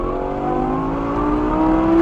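A 2012 Lamborghini Gallardo LP 560-4 Spyder accelerates in automatic mode, its engine note climbing steadily in a loud, smooth rising whine heard from inside the car with no talk.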